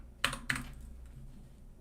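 Two quick bursts of keys being tapped on a computer keyboard while a search is entered, close and crisp, followed by quiet.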